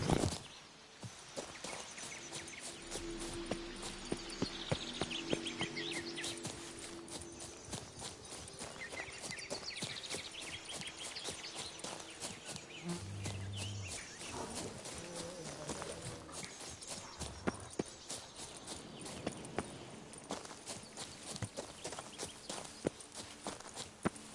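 Roach the horse trotting in The Witcher 3, steady clip-clopping hooves with a regular rhythm for the whole stretch, moderately close, with faint birdsong and ambient outdoor sounds behind.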